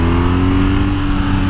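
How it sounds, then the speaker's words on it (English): A loud, close BMW R nineT motorcycle engine drones steadily with a rich, buzzy exhaust note, holding a constant pitch throughout. "Nice exhaust note too."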